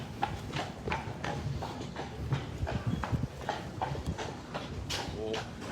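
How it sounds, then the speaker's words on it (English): Horses' hooves clip-clop along a street in St. Augustine, a steady run of sharp, moderately close hoof strikes with some background noise and no talk. "All the horses have to come by and say hi to Miss Gale."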